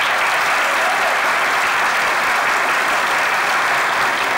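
A studio audience at a comedy sketch show gives a performer a loud, dense, continuous round of applause, steady and full throughout with no pauses.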